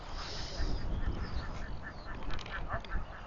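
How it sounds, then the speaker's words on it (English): Goose or duck calling at night outdoors near a prehistoric village site in Orkney, a series of repeated honking quacks over rough wind-like background noise, moderately near. "It sounds like a goose. Or maybe a duck."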